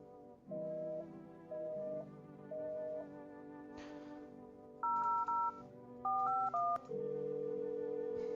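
Telephone keypad dialing tones in the horror game I'm Not A Human: three spaced single beeps, then quick pairs of dual-tone presses and a final steady tone, clean and close with no talking.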